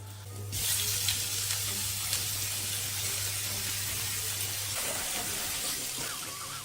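Large apple quarters sizzle steadily in hot olive oil in a pan, a continuous crackling hiss heard up close, with a low hum fading partway through.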